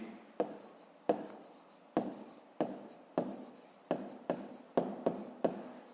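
Pen writing on paper during a fifth-grade math exercise, a series of about ten close, quiet scratchy strokes, each starting with a sharp tap and fading, in an otherwise silent room.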